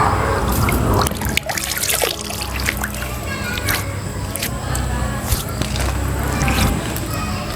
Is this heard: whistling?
no